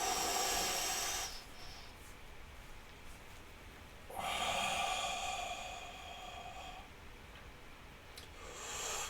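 Deep, slow yoga breaths in and out, close and airy, each long, hissing breath separated by a quiet pause. There is no talking.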